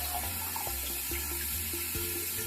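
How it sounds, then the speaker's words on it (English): Water runs from a tap to fill a hose for siphoning, a steady faint splashing stream with small gurgling bubbles, alone with no voices. "take this hose, fill it up like I mentioned before, just put some water in it"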